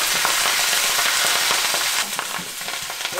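Fresh garden vegetables hit a hot wok and stir-fry with a steady, close hiss of oil, dotted with scraping clicks and taps of a utensil against the pan, with no talking.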